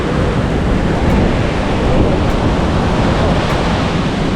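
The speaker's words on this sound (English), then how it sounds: "these waves are pretty wild" Wild ocean surf breaking on a sandy beach at Nusa Penida, a loud, continuous roar of crashing waves with wind buffeting the microphone throughout.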